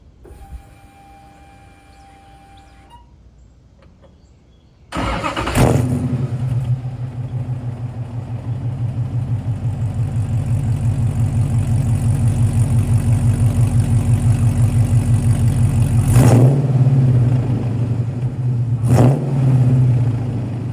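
A Gen 3 Hemi V8 engine in a 1971 Dodge Challenger cranks and fires up, then settles into a loud, steady, rumbling idle with a couple of brief revs near the end.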